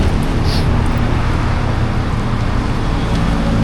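Taxi car driving along a road in Finland, a steady close rumble of engine and tyre noise with continuous road hiss throughout.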